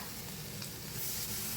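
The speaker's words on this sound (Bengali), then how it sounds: "সাথে সয়াবিনগুলো একটু ভেজে নেব।" Soybeans frying in a pan for a Bengali curry, a brief, soft, steady hiss of sizzling oil with no voices.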